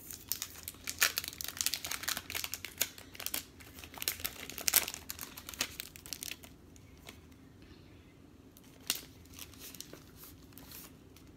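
Packaging around gift-wrapping stickers is torn and crinkled open up close, giving dense crackling and rustling bursts that ease into scattered softer crinkles.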